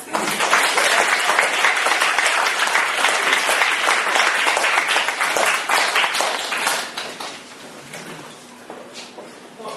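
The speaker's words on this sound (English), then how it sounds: "let's welcome our speaker with a big round of applause." A full room applauds to welcome a speaker at a library talk, loud sustained clapping that fades in the last few seconds to scattered claps.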